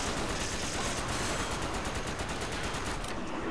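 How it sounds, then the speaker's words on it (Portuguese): Rapid gunfire from the video game Resident Evil 5 rattles on continuously and loudly, dense bursts of shots blending into a sustained barrage with no talk over it. "Tô levando tiro aqui."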